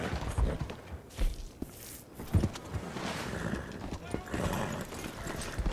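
Hooves of a leopard Appaloosa horse clop in Red Dead Redemption II, a soft, uneven walking rhythm under a person's ongoing talk.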